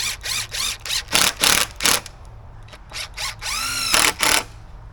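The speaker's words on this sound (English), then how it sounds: "I already got the studs cut, and then we're going to screw them together." Power drill driving screws to join wooden greenhouse back-wall studs: a series of short, loud whirring bursts with brief pauses between them, then a longer rising whine as a screw seats, close by with no talking.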